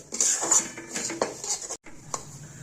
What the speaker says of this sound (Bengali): এই বুঝে আমি সুজিটাকে হালকা আঁচেই ভাজতে থাকবো আস্তে আস্তে করে।